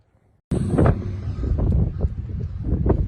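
Steady wind roars and buffets the microphone after a brief near-silent start, a continuous low rumble with gusty swells.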